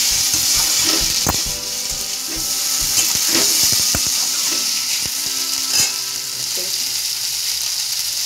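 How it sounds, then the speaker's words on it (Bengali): Potatoes and pointed gourd frying in oil, stirred in a pan, with a loud continuous sizzle and a series of sharp knocks and scrapes from the utensil at an irregular pace. Nobody speaks. "ভালো করে নেড়ে ফেড়ে নিতে হবে"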